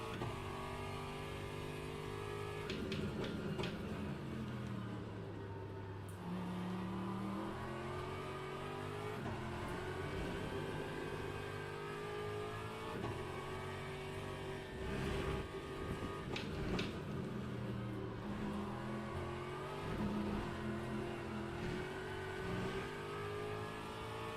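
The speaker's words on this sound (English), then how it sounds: "The Aston really, in my opinion, does not sound as good as the Mustang with a similar style of engine" Aston Martin race car engine in the Le Mans Ultimate racing game, a steady loud harmonic drone that keeps rising and falling in pitch through gear changes for the whole stretch, with no talk over it.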